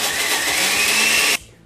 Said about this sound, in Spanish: Ahora tapamos y licuamos.